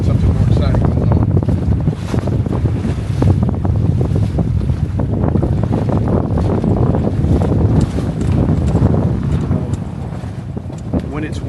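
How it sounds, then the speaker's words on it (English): Strong wind buffets the microphone in steady roaring gusts aboard a Catalina 22 sailboat with a reefed mainsail, gusts to 25, with water sloshing against the hull underneath. "When it's windy like this"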